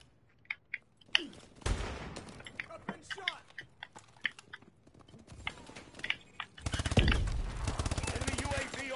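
Call of Duty Advanced Warfare multiplayer gunfire: scattered single shots and short bursts pop at varying distances, then a loud, close stretch of rapid automatic fire near the end, with a player talking in between.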